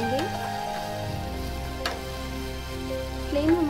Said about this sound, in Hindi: जिंजर और इन सारी सब्जियों को हम लगभग 2 से 3 मिनट तक भून लेंगे।